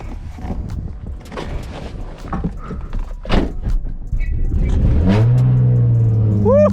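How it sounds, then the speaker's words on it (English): A straight-piped Nissan 350Z rolls backward on a driveway with clunks and thumps before the clutch is popped, and the engine catches with a loud bark, then settles into a raw, rising, steady rumble. "Literally letting it just roll back on the driveway, then I popped the clutch."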